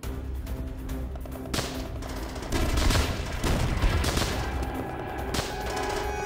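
Rapid volleys of gunfire from the World War II shooter Call of Duty: World at War on Wii, dense bursts of machine-gun and rifle shots crackling continuously, with sharper louder blasts breaking through.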